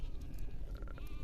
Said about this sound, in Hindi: ये तमाम भेड़ बकरियां यहाँ पे